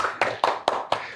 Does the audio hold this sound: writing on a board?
no